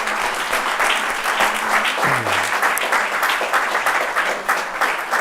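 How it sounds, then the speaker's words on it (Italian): An audience at an Italian talk on cultivating authentic relationships applauds a guest psychoanalyst. The clapping is loud, dense and sustained from start to finish, and a voice briefly cuts through it. "grazie al dottor Tanopoulos, lo ringraziamo tutti con un applauso che arriva"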